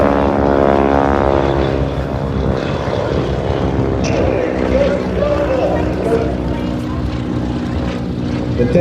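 Propeller aircraft fly in formation above a beach air show, their loud droning engines shifting in pitch as they pass, while a commentator talks over them.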